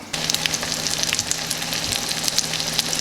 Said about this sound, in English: I got my shrimp and my fish cooking over here.